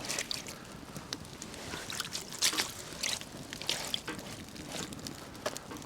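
Water trickles and splashes onto a OneTigris fire mat laid on the ground outdoors, a faint, irregular run of small drips and pours with no voices.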